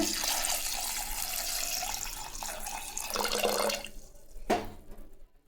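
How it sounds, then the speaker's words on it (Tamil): Water pours steadily into a cooking pot on a gas stove with a rushing, splashing sound, then tapers off into a few splashes and drips. "இப்போ தண்ணி ஊற்றிக்கலாங்க"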